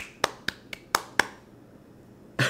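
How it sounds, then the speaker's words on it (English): A few sharp, separate hand claps or snaps, five quick ones at uneven intervals and then one more after a pause, crisp, close and fairly quiet against a near-silent background. "give him a clap, man."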